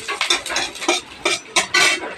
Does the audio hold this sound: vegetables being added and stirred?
yes